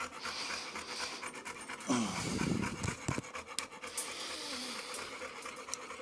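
Dogs resting in crates after a long walk, panting fast and rhythmically close by, a steady stream of heavy breaths with no voices.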